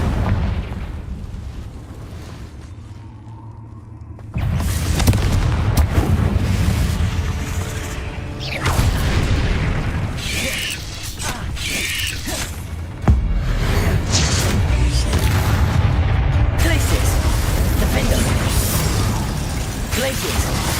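The Confringo fire spell in the Hogwarts Legacy video game sets off loud, booming explosions amid a dense battle din, with surges and blasts over about twenty seconds while a player shouts spell names throughout.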